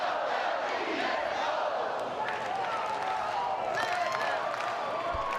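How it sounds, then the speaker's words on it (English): A large crowd at a Florida State versus Mississippi State college baseball game in Tallahassee roars and cheers continuously, a dense wall of voices with whistles and shouts rising near the end, an announcer faintly talking underneath. "Awesome crowd on hand tonight in Tallahassee."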